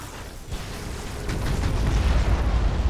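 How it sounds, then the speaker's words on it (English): Torpedoes exploding in Battlefleet Gothic: Armada 2, a rolling boom that swells into a heavy, sustained rumble of detonations. "Torpedoes."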